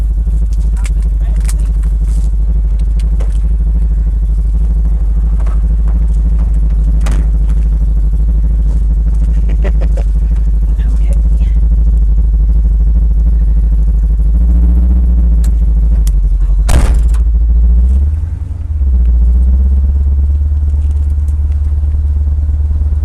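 A 1976 Pontiac Firebird engine on a test drive, a loud, steady low rumble from inside the car that holds for the whole stretch, with a brief clatter late on and people talking faintly over it.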